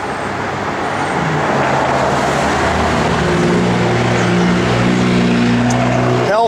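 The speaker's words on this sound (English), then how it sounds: "Healthy big block 396. It's actually a late 60s 396." A 1970 Chevrolet Chevelle SS with a late-60s big-block 396 V8 and a Quick Fuel dual-feed four-barrel carburetor idles close by, a loud, steady, deep rumble that holds throughout with no talk.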